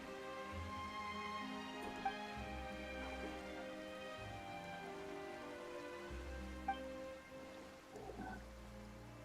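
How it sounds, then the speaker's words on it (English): Rain falls steadily in the Genshin Impact game, a soft continuous patter of drops alone at low volume with a few faint chimes and tones from the game's soundscape. "Why is it raining all of a sudden?"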